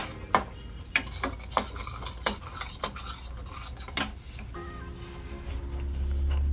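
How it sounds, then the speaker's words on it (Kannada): Masala gravy for dum aloo fries in a pan while a metal spoon stirs it, producing sharp, repeated clinks and scrapes against the pan over a low sizzle, with a steady hum rising near the end. "ಮಸಾಲೆ ಎಲ್ಲ ಮಿಕ್ಸ್ ಮಾಡಿಕೊಂಡು ಒಂದ್ಸರಿ ಚೆನ್ನಾಗಿ ಫ್ರೈ ಮಾಡ್ಕೋಬೇಕಾಗತ್ತೆ"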